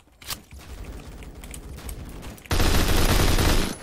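Rapid video game gunfire from a player's weapon, a loud sustained burst of automatic shots in the last second and a half, with sparser clicks and shots before it.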